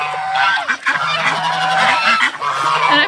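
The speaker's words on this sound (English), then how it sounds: "I'm going to let these geese out." A flock of geese is let out of their pen, honking loudly and continuously at close range in overlapping, repeated calls.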